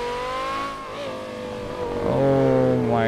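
A video game sports car engine, a Porsche 918 Spyder or Ferrari 488 Pista hypercar, revs and climbs in pitch, shifting through gears with a rising harmonic whine, loud and close.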